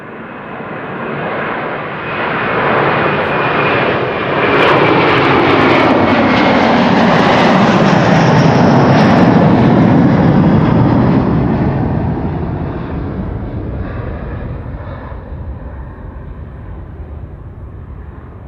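An Airbus A330-300 airliner, 21 years old, passes at Amsterdam Schiphol Airport, its jet engine roar swelling from a distant rumble to a loud, broad rush near the middle before slowly fading away.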